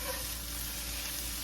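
Onions frying in a pan while baked stuffed brie is prepared, a soft, steady sizzle with a constant low hum beneath it, faint and unbroken with no talking.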